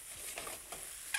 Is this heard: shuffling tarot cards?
no